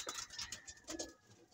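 Gift pigeons kept as pet birds cooing close by, soft repeated throaty calls in short bursts with faint chirpy overtones, no talking.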